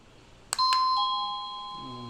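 After a quick click of its button, a cheap battery-free wireless doorbell gives one bright two-tone electronic ding-dong, close and clean, its ringing tail fading in a quiet room.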